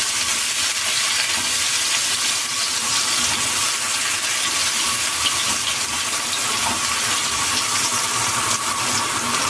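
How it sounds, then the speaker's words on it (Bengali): Coconut milk poured into a hot cooking pan while making a steamed-egg curry, giving a steady, continuous liquid hiss and sizzle that is close and fairly loud throughout, with no talking. "আমি এখানে নারকেলের দুধটাই দিচ্ছি এখানে দিয়ে দিচ্ছি পেঁয়াজ আর"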